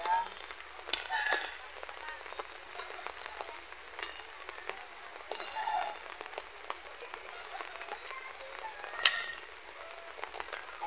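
Rain falls in a rural province garden while a fence is being repaired, a soft, steady patter with scattered sharper drops and occasional louder taps spread across the whole stretch, faint and continuous with no voices over it.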